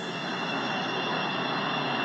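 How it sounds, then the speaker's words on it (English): A train in the Stepford County Railway video game approaches a platform with a steady, broad rumbling roar that holds evenly for a couple of seconds, no voices. "The train now approaching Platform 1 terminates here."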